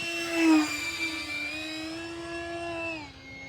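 A 64mm electric ducted-fan engine on an H-King L-39 Albatros RC jet, a steady high tonal whine at partial throttle that holds then dips slightly, fairly close and loud, no talking.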